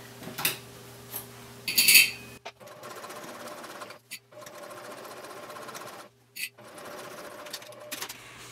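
A sewing machine stitches fabric in short bursts, a steady rapid whir broken by brief pauses as the foot is lifted and the material repositioned, with a few light clicks near the start.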